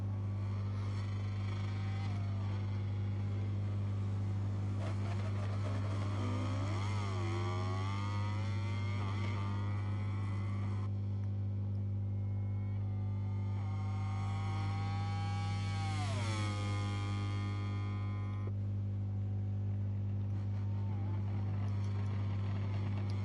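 A racing motorcycle engine from MotoGP 23 drones steadily at high revs, with pitch sweeps as it shifts through gears and brakes into corners, loud and continuous with no talk.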